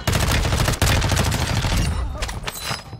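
A precision airstrike hits the Vondel Park map in the Modern Warfare II video game as a loud, dense barrage of blasts and rapid gunfire. The barrage breaks briefly, then continues and tapers off.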